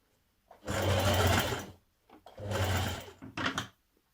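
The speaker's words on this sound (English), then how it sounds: "Don't keep it too tight as you stitch around this curved bit of your pocket." A sewing machine stitches around the curved pocket of a Simplicity 9122 dress in two loud, close bursts of whirring, separated by a brief pause, ending with a short stop-start run.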